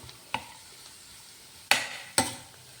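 Vegetables, including drumstick leaves, being tossed and stirred with salt in a pan, three sharp close scraping clatters of utensil against pan over quiet background.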